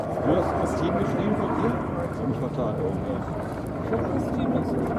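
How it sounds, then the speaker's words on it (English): B-25 Mitchell bomber, Flying Bulls example, flying at the Flying Legends airshow in 2018, a steady droning piston-engine rumble held throughout at a moderate distance, with a commentator talking over it. "the aircraft made famous by Jimmy Doolittle in the attack on Tokyo as a morale booster for the American public"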